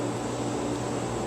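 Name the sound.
air conditioner and pool pump running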